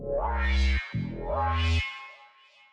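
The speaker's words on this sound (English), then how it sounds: "We can use a reverb too." A deep, buzzy saw-wave synth bass plays two sustained notes, each with a bright swelling top, and a reverb tail rings out after the second note.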